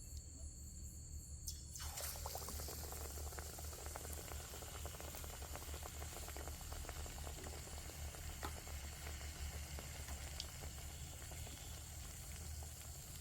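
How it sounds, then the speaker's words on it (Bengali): Battered potato chops frying in a pan of hot oil, a steady dense bubbling sizzle that starts abruptly after a quiet moment and then holds loud and close, with no voices over it. "আমি এবার ব্যাটার মেখে মেখে প্রথমে আমি ভেজে নিচ্ছি আলুর চপ।"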